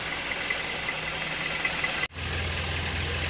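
A Hyundai Grandeur HG engine idles while being warmed up to check coolant circulation, giving a steady, even low hum with a brief cut partway through before the same idle resumes.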